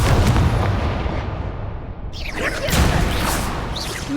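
Confringo, an explosive fire spell in the Hogwarts Legacy video game, lands as heavy booming blasts during combat, a loud rumbling burst followed by a second crackling impact.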